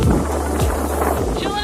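Steady wind buffets the microphone on a Maui beach in Hawaii, a constant low rumble and hiss filling the short stretch without pause.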